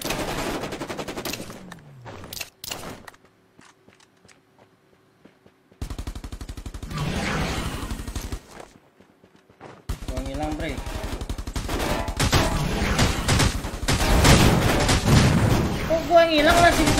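Gunfire in Rules of Survival, bursts of rapid shots broken by quiet gaps, building into dense, loud automatic fire toward the end, with voices talking between bursts.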